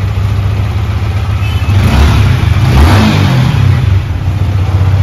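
A KTM Duke 250 motorcycle engine revs up loudly and steadily, peaking briefly before settling back, close by with no voices.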